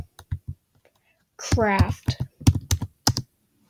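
Keys tapped on a Chromebook keyboard, a few quiet clicks at the start and sharp taps scattered through the second half, heard between and under a person speaking.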